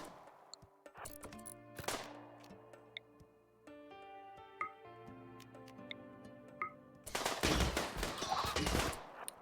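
Gunfire and grenade blasts in the video game Rimworld, with scattered sharp shots and ticks over a sustained tonal backdrop, ending in a dense, loud burst of rapid fire and explosions.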